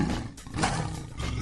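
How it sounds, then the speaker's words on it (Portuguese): A lion roars loudly and close, a single sustained, rough bellow that swells and holds for over a second with no other sound around it. "É o leão."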